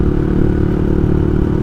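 A motorcycle riding on a city road in Makassar, its engine giving a loud, steady, close-up drone with wind rumble and road clatter, no talk.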